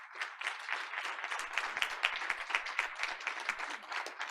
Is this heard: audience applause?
yes